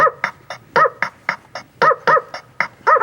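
A dog barking in a quick rhythmic series of about a dozen loud, close barks, spaced like a steady beat.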